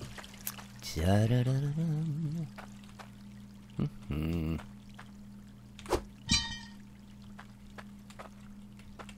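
Water pouring in the mining game Hydroneer, a brief splashing gush midway, surrounded by a voice humming and talking over a low steady hum.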